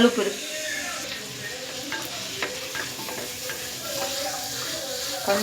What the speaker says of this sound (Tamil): கல்லுப்பு போட்டு தக்காளி வதங்க விட்டால் தான் கொஞ்சம் சீக்கிரம் வதங்கும்.